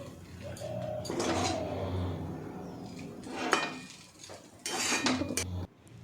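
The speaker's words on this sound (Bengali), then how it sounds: "একটু ভালো করে মিক্স করি নেড়ে চেড়ে।" Chow mein with egg is stirred in a pan: metal utensils clank and scrape against it in uneven bursts, fairly close, with short quieter gaps between rounds of mixing.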